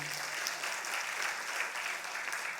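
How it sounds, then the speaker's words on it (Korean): Steady applause from a crowd, dense clapping that fills the whole stretch at an even, fairly loud level. "참 대단합니다. 박수 좀 해주세요."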